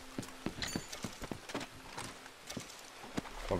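A horse's hooves clip-clop in an irregular walking rhythm in the video game Red Dead Redemption 2, moderately close, with no talk over them.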